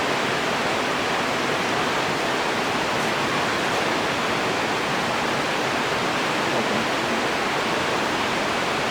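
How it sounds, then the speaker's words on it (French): A waterfall roars in a dense, unbroken wash, with the sound of trickling stream water blended in. The rush stays loud and steady the whole time, with nothing else standing out. "à part les cascades, le bruit de l'eau qui ruisselle"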